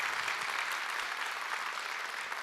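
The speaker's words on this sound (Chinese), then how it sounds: "单单这个胆量值得给 Reway 一个掌声" An audience applauds at a Riway corporate leadership conference in Japan, steady dense clapping filling the hall for the whole stretch, even and sustained without talk over it.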